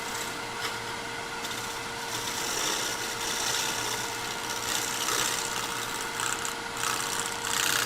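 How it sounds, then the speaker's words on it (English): Shear scraper smoothing ripples from a wooden bowl turned from a small log on a lathe: a steady, close rubbing and scraping hiss over the constant hum of the spinning lathe, with no talking. "see if I can't get rid of some of those ripples with a shear scraper"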